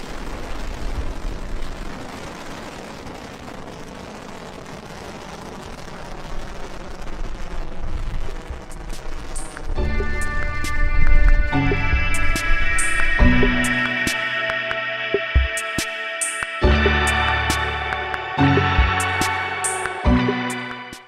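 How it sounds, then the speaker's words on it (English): SpaceX Falcon 9 orbital-class rocket on a reflight lifting off: a loud, sustained rumbling roar of rocket engines swelling and holding, joined midway by layered tonal tones and sharp crackles over the continuous thunder. "Liftoff of Falcon 9, the world's first reflight of orbital-class rocket."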